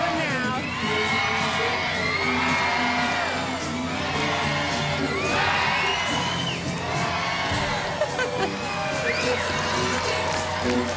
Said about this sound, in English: Oh, and they're getting the crowd going now.